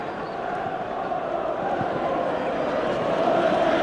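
A football crowd at a 1996/97 Premiership match between Blackburn and Manchester United sends up a steady, broad roar of appeal that swells slightly toward the end, heard from a distance as one mass of voices.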